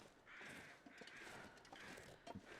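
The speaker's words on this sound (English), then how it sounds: "Hear those birds?" Crows cawing in The Long Dark video game, several harsh repeated caws in a loose rhythm, faint and distant against quiet ambience.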